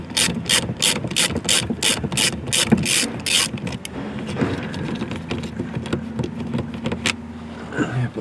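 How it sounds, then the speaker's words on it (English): A ratchet with a 7mm socket backs out a center screw on a 2021-2024 Ford Mach-E, giving a quick run of sharp, close clicks followed by softer, faster ratcheting ticks, with no talking. "we're going to remove the center screw using a 7mm socket."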